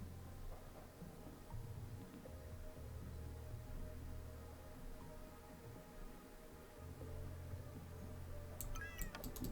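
Cartoonish cat meows in the video game Backpack Battles, faint and brief near the end over a low, steady game-music hum.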